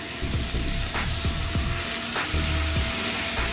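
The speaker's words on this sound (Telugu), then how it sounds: "ఇప్పుడు 1 నిమిషం పాటు వేయించుకున్నాం కదా" Green chana masala with coconut fries in a pan, a steady close sizzle with occasional scraping stir strokes, no talking.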